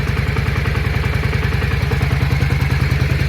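A 1997 Yamaha Virago 535 motorcycle engine idles up close with a steady, even low chugging pulse and a light mechanical clatter layered on top, running without pause throughout.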